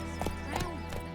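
A horse gallops in The Witcher 3 video game, hoofbeats landing in a quick clip-clop rhythm across about a second, with a faint whinny-like tone mixed in under steady game ambience.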